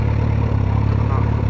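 A BMW motorbike engine idles steadily close by, a constant low throbbing hum with light mechanical clatter and no pauses or revving.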